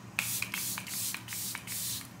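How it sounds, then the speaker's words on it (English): Airbrush Flawless Setting Spray misted from a can in several short bursts, a close hissing spray repeated roughly every half second with soft handling rustle between. "just going to go in with the Airbrush Flawless Setting Spray"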